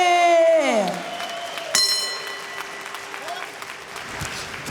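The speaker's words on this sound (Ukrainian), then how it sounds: "я дуже прошу вас підтримати наших бійців оплесками" Audience applause for boxers at a ring event rolls on steadily throughout, with a loud sliding tone and ringing music-like notes cutting across the crowd noise.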